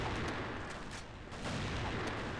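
Gunfire from AWM sniper play in the online shooter CrossFire sounds as a dense, noisy wash of rapid shots and booms, loud and sustained throughout the short stretch with no clear gaps.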